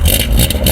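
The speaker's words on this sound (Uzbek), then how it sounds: "Endi ovozga ahamiyat beringlar. Bitta gaz bering." A Lada Zhiguli's petrol engine revs loudly and close by, with a brief, steady, rumbling burst of throttle and no talk over it.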